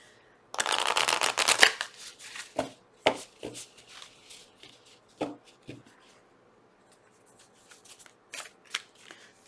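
An oracle card deck is shuffled by hand, opening with a loud riffling burst and then continuing as a series of sharp, uneven card slaps and flicks with short pauses, close up and without speech.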